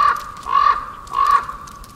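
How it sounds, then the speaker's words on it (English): Crows in the Blair Witch VR video game give two or three harsh, drawn-out caws spaced about half a second apart over a dim, steady ambient background. "fucking crows"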